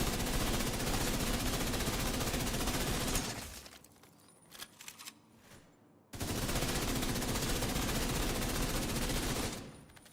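Rapid automatic gunfire from the Tinkerer exotic weapon in the Destiny video game, heard as a dense, loud, continuous burst that breaks off briefly in the middle and then resumes at full intensity.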